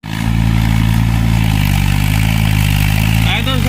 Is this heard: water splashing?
no